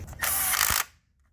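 Ratchet wrench snugging down a cam sensor bolt on a Ford Fusion 2.3L during valve cover work, heard as one quick, close burst of clicking that stops sharply, followed by quiet.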